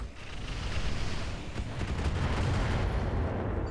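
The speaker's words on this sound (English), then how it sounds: "Let's fire on him." Gunfire in the video game Roguepoint, a dense continuous rumble of rapid shots and blasts that stays loud throughout.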